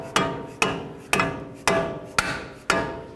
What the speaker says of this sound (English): with your hammer or rubber mallet, whatever you have